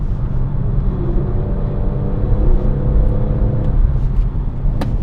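A BMW M140i with the B58 engine, out on the Goodwood track, drones with a steady, even rumble from inside the cabin, with no voices over it.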